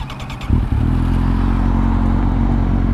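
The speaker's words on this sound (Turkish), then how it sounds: "Hemen lafı uzatmadan motoru çalıştırıp bir başlayalım incelemeye." A Kawasaki Z750 motorcycle fitted with a Delkevic exhaust cranks over and fires up, then settles into a loud, steady, throbbing idle close by.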